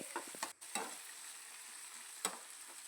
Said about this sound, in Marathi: सगळे जिन्नस एकत्र करून मिक्स करून हाय फ्लेमवरच फ्राय करून घ्यायचे आहेत